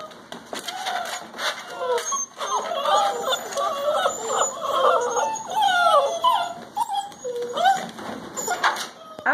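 Puppies whimper and squeal close by in a series of high, wavering cries that come and go over several seconds, with faint bird calls in the background.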